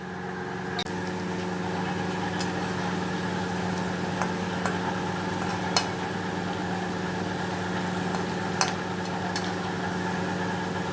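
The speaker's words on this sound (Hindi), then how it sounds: "और एग्जॉस्ट फैन की जो है आवाज़ आ रही" A kitchen exhaust fan runs steadily, a constant droning hum with tonal whine that fills the room, with occasional faint clicks and knocks from cooking nearby.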